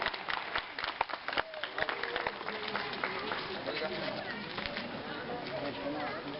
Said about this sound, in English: Okay, ready to give a clap to Triang.